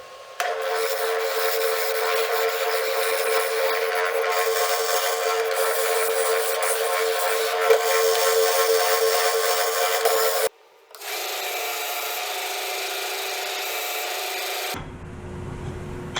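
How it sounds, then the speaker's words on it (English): Wooden golf-ball piece slid across the sandpaper of a drum sander, then its edges pressed to a belt sander: a steady, loud abrasive whir with motor hum, a brief break, then a second, slightly thinner sanding roar. "sliding it over this sandpaper, the drum sander, and then just sanding the edges like that"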